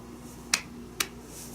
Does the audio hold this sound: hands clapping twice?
yes